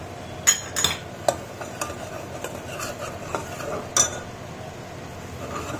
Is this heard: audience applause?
no